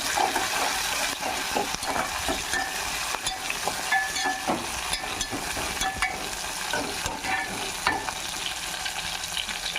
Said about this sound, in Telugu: ఇంకా ఇవి కొంచెం మగ్గినాయి కదా, అంతలోకి టమాటా ముక్కలు వేసేసుకుందాం.